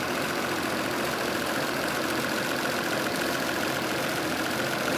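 Engine of a Nissan Skyline Kenmeri running steadily during carburetor tuning after a restoration, a constant, dense idle drone close by with no break or change in pace and no talk.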